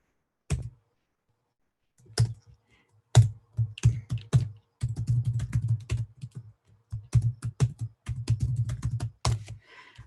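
Someone typing a password on a computer keyboard, with close, crisp key clicks coming in quick irregular bursts separated by short pauses, at a moderate level with no talking.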